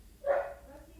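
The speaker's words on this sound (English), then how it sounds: "My dog is barking." One short dog bark, mid-pitched and slightly muffled, rises and fades within a second against a quiet background.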